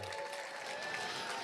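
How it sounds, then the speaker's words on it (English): Applause for the second-place finishers and big-fish winners at a Sunday bass fishing tournament weigh-in, a steady crowd clapping throughout with a faint voice over it. "Give them a big round of applause"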